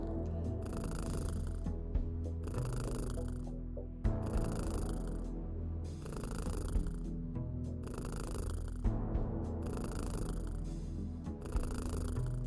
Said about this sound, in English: have some more purring kitty.